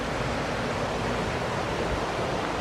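Water cascades at the Blue Hole on Little Blue Water Creek in St. Joseph Park, Tennessee, giving a steady, dense rushing roar without pause.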